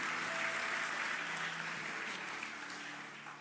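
Church congregation clapping for Jesus after a prayer at GBI Lippo Cikarang, a steady, moderately distant wash of applause that slowly tapers off, with no talking over it.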